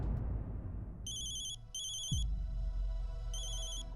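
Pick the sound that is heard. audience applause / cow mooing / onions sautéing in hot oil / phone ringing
phone ringing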